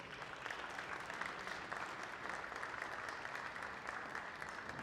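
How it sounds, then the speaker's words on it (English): Crowd applause at the NEC Wheelchair Tennis Masters, steady and sustained clapping from many hands in a large hall, fairly distant and even throughout. "Please give them a massive round of applause."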